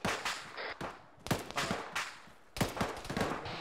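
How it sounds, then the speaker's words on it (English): Bursts of gunfire in the military shooter Squad, several rapid volleys of automatic shots echoing loud and close, with short pauses between bursts. "he's shooting through the building"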